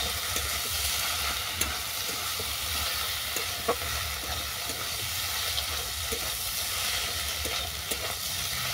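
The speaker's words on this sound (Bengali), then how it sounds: "ডিমটা দেখো এক সাইডে ভালো করে ভাজা হয়ে গেছে। ঢেঁড়সের সঙ্গে মিশিয়ে নিচ্ছি।" Egg and okra frying in oil in a pan while being stirred, a steady loud sizzle with occasional sharp scrapes and taps of the utensil against the pan.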